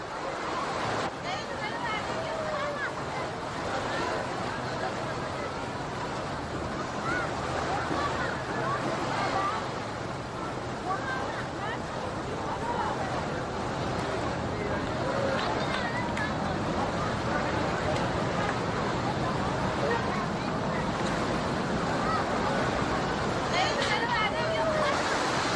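Crowd bustle beside the river in Isfahan, a dense, continuous wash of distant voices and outdoor noise, with flowing water and wind blended into the steady murmur.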